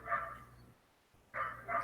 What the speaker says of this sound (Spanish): Perdón si escuchan un perro, porque es un perro que está ahí afuera.